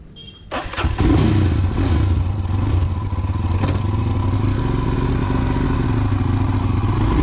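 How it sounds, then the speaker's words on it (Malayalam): A Royal Enfield Himalayan 411cc motorcycle engine fires up after a short quiet moment, then settles into a loud, steady, thumping run close by with no talking. "ബാക്കി കാര്യങ്ങൾ നമുക്ക് വണ്ടി ഓടിച്ചുകൊണ്ട് സംസാരിക്കാം."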